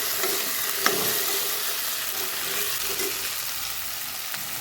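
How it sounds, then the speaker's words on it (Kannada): Vegetables frying in a pan for vegetable palav, a steady close sizzle with a few soft stirring knocks and no talk. "2 ನಿಮಿಷ ಇದು ಫ್ರೈ ಆಗಬೇಕು"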